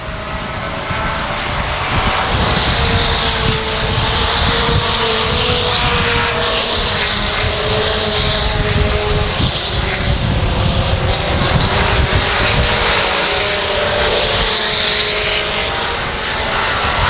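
Race cars circling Salina Speedway during Friday qualifying for the Fall Fling, a loud, continuous engine roar that holds steady throughout with no talk over it.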